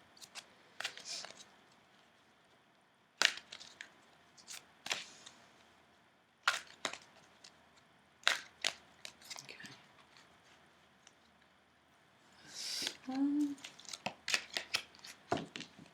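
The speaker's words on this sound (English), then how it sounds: "I'm going to pull a card from the Journey of Love Oracle by Alana Fairchild Rasuli and Richard Cohen," Oracle cards from a Journey of Love deck are shuffled and pulled in a quiet room: scattered soft slaps and flicks of card stock, spaced apart, then a quicker cluster of riffling near the end.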